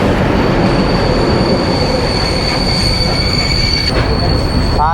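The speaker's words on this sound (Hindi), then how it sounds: "यहाँ पे फाइनली ट्रेन आ गई एंड इलेक्ट्रिक लोकोमोटिव नहीं है यहाँ पे, कोई इलेक्ट्रिक का सिस्टम नहीं है, ओनली डीजल ट्रेन।" A Sri Lankan diesel passenger train hauled by a Class M4 locomotive arrives at a Colombo station, loud and close, with rolling wheel noise, steady rumble and a sustained high-pitched wheel squeal.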